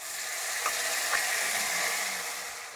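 Spice paste hits hot oil in a pan while cooking shrimp with young jackfruit, giving a steady, close hiss and crackle that fills the whole short stretch, with a couple of faint metallic clicks.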